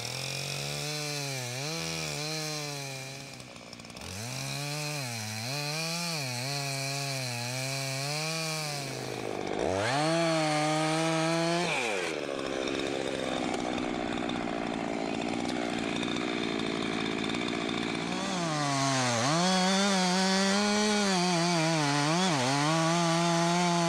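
A chainsaw roars close by while cutting down a tree, revving up and down repeatedly as it bites into the trunk, with a stretch of steady cutting in the middle.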